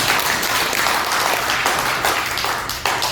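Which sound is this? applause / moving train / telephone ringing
applause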